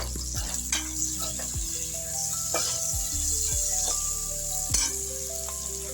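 Carrot, green chili and potato frying in a pan with onions, a continuous sizzle under several scraping and knocking strokes of a stirring spoon, close up, with tonal hum patterns running underneath and no speech.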